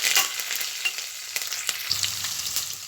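Mustard seeds, dals, dried and green chillies and curry leaves crackle in hot oil for amla rice, a close, sharp sizzle with spitting pops and a few stirring taps over about three seconds, no voices.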